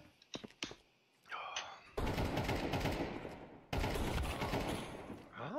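Bursts of automatic gunfire in Counter-Strike 2 arrive in two long, loud sustained volleys after a few sharp single shots and a brief quiet stretch, with no voices speaking.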